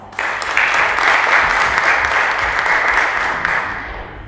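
An audience at a reception applauds steadily for about four seconds, a dense, continuous clapping that fills the room before tapering slightly at the end.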